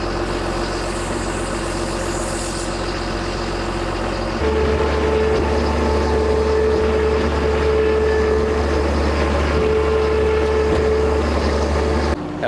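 A John Deere dozer's diesel engine runs at a steady idle, loud and close, with a deep continuous rumble. Its tone firms up partway through and holds until the end.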